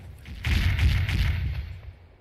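Ship cannons firing in the naval video game Sea Dogs, a muffled booming broadside with a rolling low rumble that swells and then fades away.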